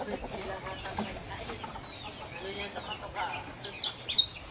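Chickens, a flock of about thirty, cluck and chirp quietly in the background on a farm while people talk nearby, with a few brighter calls rising toward the end.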